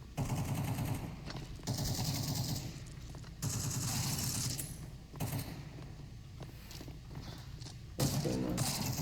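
Bursts of rapid gunfire in a game, clattering volleys that start and stop in several loud stretches, with hoofbeat-like clatter mixed in and a brief voice near the end.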